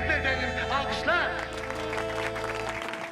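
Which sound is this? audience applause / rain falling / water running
audience applause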